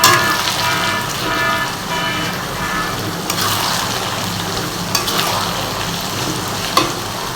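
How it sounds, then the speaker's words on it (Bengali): Sliced onion already fried red sizzles loudly in a pan as garlic, ginger and chilli paste go in for chicken rezala. A steady, dense crackle runs throughout, with a few sharper clinks near the end. "এর মধ্যে রসুন বাটা, আদা বাটা, লঙ্কা বাটাটা দিয়ে দিচ্ছি।"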